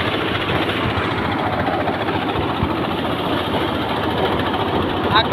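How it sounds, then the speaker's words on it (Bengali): A rice threshing machine runs steadily during the Boishakh harvest, a loud continuous engine drone with dense mechanical rattle and no break. "ধান মারাই করতেছে, খুব সুন্দর মারাই মেশিন"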